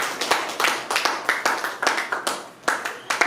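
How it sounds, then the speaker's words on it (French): A church congregation claps together in a steady rhythmic beat, sharp, close hand claps repeating about three times a second with no talk. "On peut acclamer pour la parole."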